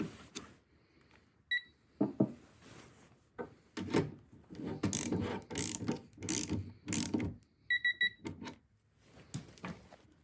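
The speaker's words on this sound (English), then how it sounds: "we use the digital torque adapter for this to secure them tight, but not too tight." A digital torque adapter on a ratchet tightens the terminal bolts of a DIY 48V 16s LiFePO4 battery box, giving close, quiet bursts of clicking pawl and metallic handling with short pauses between strokes.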